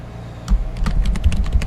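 Typing on a computer keyboard, a close, fairly loud run of quick irregular key clicks starting after a brief quiet pause.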